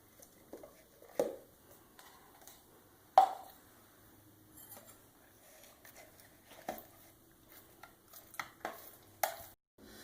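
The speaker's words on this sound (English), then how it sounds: "Stir in about 4 ounces of mozzarella cheese." Ricotta and mozzarella cheese are stirred together in a mixing bowl with a spoon, making soft, sparse squelches and occasional sharper taps against the bowl in an otherwise quiet room.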